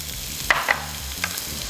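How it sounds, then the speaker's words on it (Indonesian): Shallots sautéing in oil in a pan, with a soft stirring scrape and a few brief sizzling bursts over a low background hum. "Ini kita akan tumis bawang merah."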